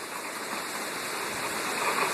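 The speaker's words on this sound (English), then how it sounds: "The rain's still coming down pretty good." Heavy rain pours down during Hurricane Sandy, a steady, dense hiss of falling water with wind, fairly quiet and unbroken over the short stretch.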